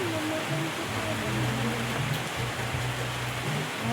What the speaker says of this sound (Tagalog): Malakas po yung ulan.